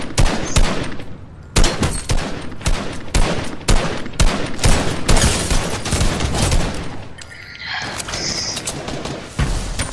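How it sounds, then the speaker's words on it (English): Rapid, loud Fortnite gunfire fills the scene in dense bursts of shots and thuds nearly throughout, easing slightly toward the end, with no speech. "Who is shooting at me?"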